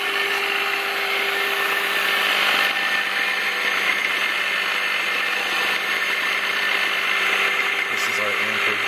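A rotoverter setup with a three-phase prime mover motor driving an alternator runs at a steady, continuous electric hum with a constant whine, unchanging and moderately loud throughout.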